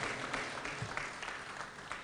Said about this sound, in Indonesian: Tepuk tangan sekali lagi untuk Dewan Pertimbangan Partai Demokrat.